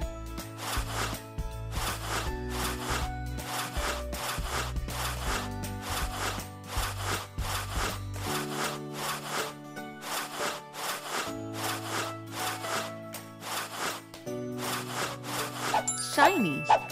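Rhythmic scrubbing and rubbing strokes from a kids' cleaning video game, repeated back-and-forth swishes over a looping cheerful music backing, ending with a small chime.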